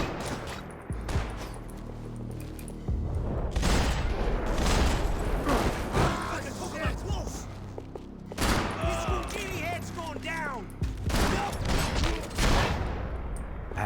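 Continuous rattling gunfire from the shooter video game Max Payne 3, dense and loud throughout, with shouting voices and game dialogue mixed over the shots.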